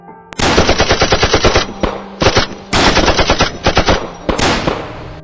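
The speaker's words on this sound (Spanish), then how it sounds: "Los disparos no acabaron de cesar" Sustained bursts of rapid automatic gunfire from a firing-squad massacre, loud and close, coming in several long volleys with brief gaps between them and no voices.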